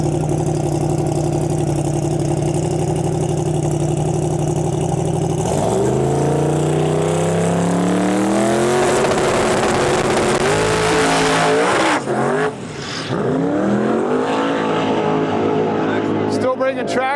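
Drag racing car making a run at Interlake Dragway, a loud engine note climbing in pitch as it accelerates away, then fading with harsh bursts and crackles, while a commentator talks over it.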